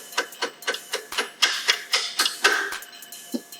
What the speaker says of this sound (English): we're going to gently hammer that in